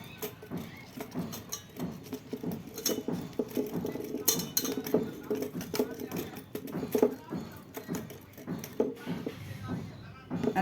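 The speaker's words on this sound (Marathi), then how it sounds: "त्यात थोडंसं ताक घालायचं आणि रवीने घुसळून घ्यायचं" Wooden churner (ravi) being twirled in a pot of buttermilk mixed with flour, giving quick repeated knocking and sloshing clatter against the vessel at close range, steady and rhythmic throughout.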